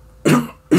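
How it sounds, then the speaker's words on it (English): Two sharp, close coughs from one person: a heavy, drawn-out first cough, a short pause, then a second burst that begins just as the clip ends. "Sound like coughing."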